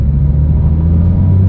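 Porsche 911 GT3 flat-six engine running just after a key start, a loud, steady low rumble heard close up with no voices.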